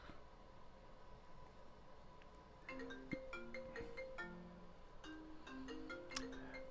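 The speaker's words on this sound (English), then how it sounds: "you believe Bible reading interrupted by a spam call?" A phone ringtone from an incoming spam call plays a faint melodic electronic tune of repeated chiming notes over a low background hiss, starting partway in and continuing to the end.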